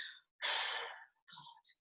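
A long, breathy exhale from a person finishing a counted breathing exercise, followed by a couple of softer short breaths and a faint sniff, heard close and alone.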